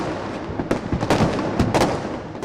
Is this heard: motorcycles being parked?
no